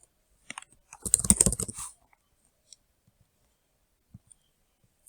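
Quiet computer keyboard typing comes as a quick cluster of clicking keystrokes lasting under a second, followed by a few isolated taps in an otherwise silent room.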